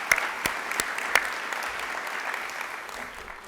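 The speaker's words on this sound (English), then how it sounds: "So just a round of applause for all you administrators and teachers" Audience applause for school administrators and teachers at a school district event, a fairly faint, steady patter of clapping with a few sharper claps near the start, fading slightly toward the end.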